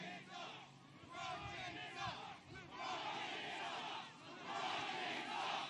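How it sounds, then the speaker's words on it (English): A large crowd at a Donald Trump campaign rally in Pennsylvania cheers and chants in a loud, sustained roar that swells and dips over several seconds, with no distinct speech on top. "What a crowd."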